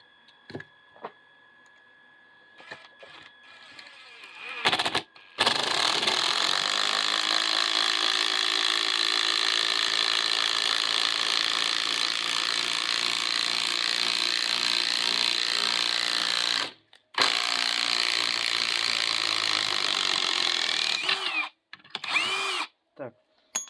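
Cordless Makita and Einhell impact wrenches run under full charge, a loud continuous high-pitched whirring and hammering that holds steady for long stretches with short pauses between runs.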